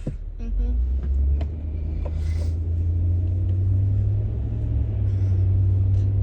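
A car passes on a Chicago city street at night as a loud, steady low engine rumble that holds for several seconds, with faint background noises and people talking nearby.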